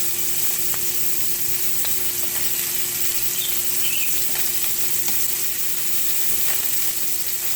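Scallops searing in a hot pan, a steady continuous sizzle with faint crackles and a constant low hum beneath, close and even throughout with no talking.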